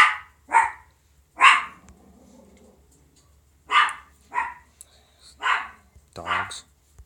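Several dogs bark at something across the street, sharp separate barks in loose clusters, fairly close and loud, with quiet gaps between them.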